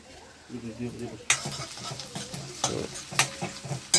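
Chopped onions fry in a pan while a spoon stirs them, soft scraping and clacks repeating irregularly over a low, close sizzle.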